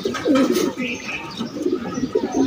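Pigeons coo close by in soft, rounded, repeated calls that rise and fall in short bursts, with quieter sounds around them and no clear talking.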